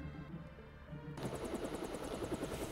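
In the video game Deus Ex, a futuristic MG-12 helicopter over Hong Kong thrums with rapid rotor chopping that cuts in abruptly after a quiet hum, steady and fairly close.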